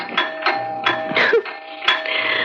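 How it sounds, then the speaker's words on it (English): An electronic back doorbell chimes in a series of rapid repeated ding-dong tones, fairly close and clear, with a brief rustle in the middle, in an old-time radio drama. "Why does the back doorbell always ring when you're at the front?"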